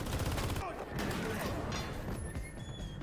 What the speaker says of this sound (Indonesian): Selanjutnya terjadi adu tembak.